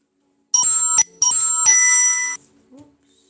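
A phone notification chime sounds during a livestream, two bright close bell-like tones in quick succession with the second held longer, then silence.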